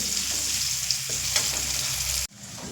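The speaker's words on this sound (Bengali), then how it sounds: "এবার আমি মিডিয়াম ফ্লেম করে আলুগুলো ভেজে নেব" Continuous loud sizzling of potatoes frying in oil over a medium flame, with a brief stir sound, then an abrupt drop in the hiss near the end.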